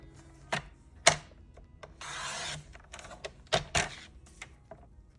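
A paper trimmer slices a blue card base: several sharp clacks of the blade and arm, with a rasping slide of the cutter along the card in between, close and fairly quiet.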